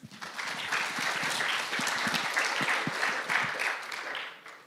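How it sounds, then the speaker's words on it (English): Applause for a team at a data project challenge event, a full round of clapping from an audience that swells quickly and holds steady for several seconds before starting to fade. "Big applause to the team."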